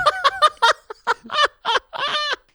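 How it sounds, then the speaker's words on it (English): Caged birds outdoors give a run of loud, harsh squawks in short rhythmic bursts, honking and goose-like, close by and with nothing else in the background. "So the birds be squawking, and it's really annoying."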